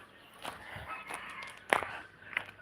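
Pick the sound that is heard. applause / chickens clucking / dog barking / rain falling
chickens clucking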